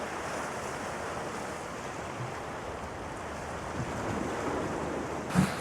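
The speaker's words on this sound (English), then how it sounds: "how the surf hits these rocks here. And then when it pulls back, it makes the most awesome noise." Waves wash steadily against rocks along the shore at Point Judith, a continuous rushing surf under gusty wind noise, with a faint bump near the end and no voices.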